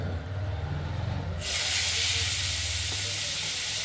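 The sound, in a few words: radish and banana stem mixture sizzling in mustard seed tempering in wok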